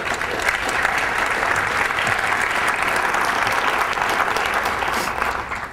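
Audience at a security conference talk on connection string attacks applauding, dense steady clapping from a large room that holds evenly throughout and tapers off at the end.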